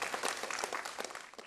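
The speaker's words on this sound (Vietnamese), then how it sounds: "Mời quý vị cùng dành một tràng pháo tay thật nồng nhiệt cho phần dự thi của câu lạc bộ đờn ca tài tử quận 1." Brisk, crackling audience applause for a Vietnamese đờn ca tài tử folk music club's contest performance from District 1, with close, dense clapping that starts strong and thins slightly as it continues.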